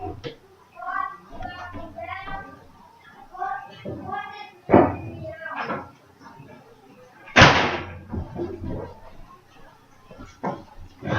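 An indoor door is shut, giving a single sharp slam in the middle, with a smaller bang a few seconds earlier, while a person talks around it and a voice is faintly heard.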